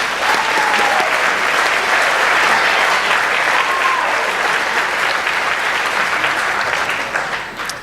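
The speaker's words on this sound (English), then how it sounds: "Let's give them a round of applause." Loud, sustained applause from an awards-day audience honoring 12-year club members, a dense wash of clapping holding steady for several seconds before easing off at the end.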